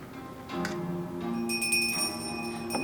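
A small bell on a Christmas tree rings in a few light, bright chimes that hang and ring out over a soft background hum, fairly quiet and without talk.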